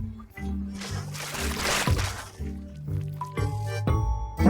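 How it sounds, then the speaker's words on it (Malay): A cooking mixture is poured into a frying pan, with wet squishing splashes and drips in irregular bursts, close and moderately loud, and some clatter between pours. "Mungkin saya patut tuang sahaja semua ini ke atas kuali?"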